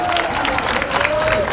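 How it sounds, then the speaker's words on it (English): Crowd applause and cheering at an outdoor Chinatown protest rally against anti-Asian violence, a steady dense clatter of many hands with voices mixed in, lasting the whole moment. "Give Echo an applause as they come."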